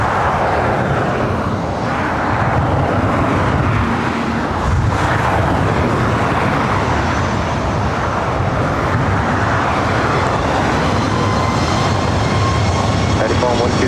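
A United airliner takes off from LAX runway 24 right, its engines a loud, sustained roar that swells and shifts over the whole stretch, with some background traffic rumble.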